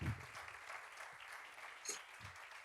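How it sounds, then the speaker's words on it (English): An audience at a talk on advertising, food and childhood applauds as the speaker Aitor Sánchez is introduced, a soft, even patter of many hands from a distance, steady throughout with a faint thump or two underneath. "Let's give him a round of applause."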